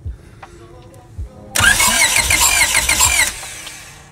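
A Honda B16A2 engine cranks over with spark and fuel disconnected, so it turns without firing; a loud, steady mechanical churn starts abruptly and runs for about two seconds, then drops off, after some quieter workshop noise.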